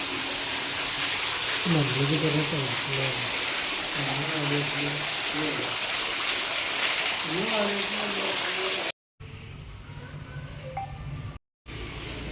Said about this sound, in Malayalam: മഴ പെയ്യുന്നു.